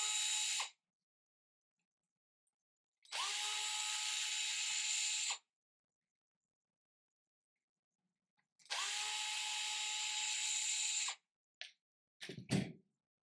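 A power drill backs screws out of an HPI Venture 18 RC car in two short, close, high-pitched whirring bursts, followed by small clicks and handling noises.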